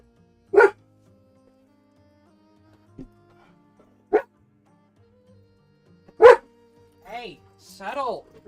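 Dogs bark in short, separate bursts with long quiet gaps between them, loud and close, followed by a few whiny yips and whimpers near the end.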